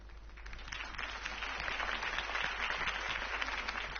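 Crowd applause after a campaign speech in a Batman video game, a dense, steady clapping that swells slightly and holds loud for several seconds.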